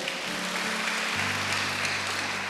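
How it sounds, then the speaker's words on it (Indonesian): A church congregation gives applause at an online Sunday service. The clapping is dense and continuous, a steady broad patter that lasts the whole clip with no talking over it. "Yang setuju berikan tepuk tangan yang paling meriah."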